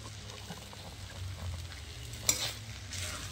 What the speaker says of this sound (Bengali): এটা যদি কড়াইয়ে বেশ ভাতের সাথে মিক্সটা ভেজে নেওয়া যায় তাহলে টেস্ট হয়